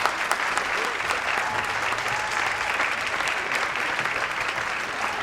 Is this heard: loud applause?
yes